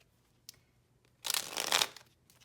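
Tarot cards being shuffled by hand, a brief riffling burst of about three-quarters of a second after a few faint taps, fairly quiet and close with no speech.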